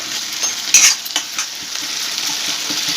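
Chilli mushroom with chilli sauce and ground pepper frying in a pan, a steady bright sizzle with a few clinks and scrapes of a spoon stirring early on, close and loud.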